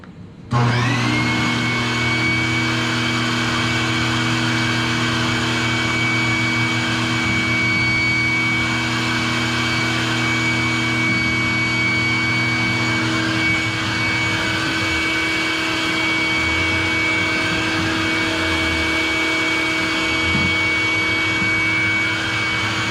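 A shop vacuum runs steadily through a Dust Deputy bagger dust separator, starting abruptly and then holding a loud, close, continuous whine and roar.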